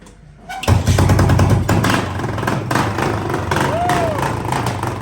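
A cold, straight-piped Yamaha XT 600 motorcycle engine fires up and runs loud and raw close by, its note rising and falling as it is revved, with voices heard briefly over it.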